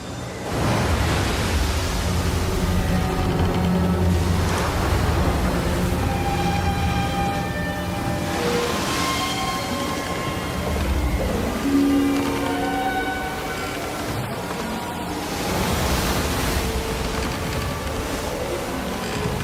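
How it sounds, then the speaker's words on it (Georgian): Strong wind stirring up the sea as a film sound effect, a loud broad unbroken roar of wind and churning water sustained for nearly twenty seconds, with no voices. "ძლიერი ქარი ამოვარდა"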